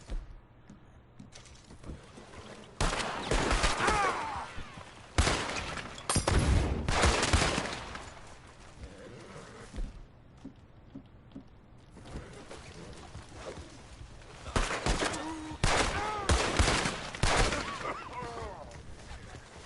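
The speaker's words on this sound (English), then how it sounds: "How are you missing so many shots?" Bursts of gunfire from the video game Red Dead Redemption 2 crack in rapid clustered volleys over about twenty seconds, alternating with quieter gaps and occasional voices talking.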